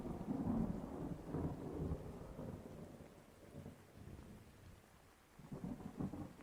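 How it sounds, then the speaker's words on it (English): A deep rumble of thunder rolls through a heavy monsoon downpour, low and swelling, fading, then building again over steady rain hiss. "the rumble of thunder came"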